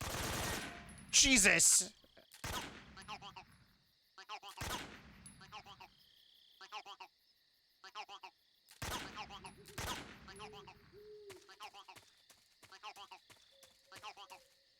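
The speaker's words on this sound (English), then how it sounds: "The gun just, like, exploded." Sharp gunshot bursts from a gun in a video game, rapid clusters of loud cracks separated by short pauses, with a man exclaiming briefly between them.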